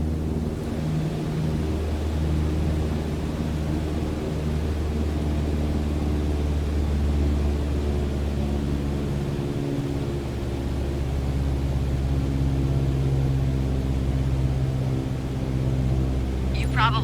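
In Microsoft Flight Simulator, a Cessna 172's piston engine is throttled back to 1,800 RPM, giving a steady, loud droning hum with a low rumble that dips briefly and then settles into an even tone.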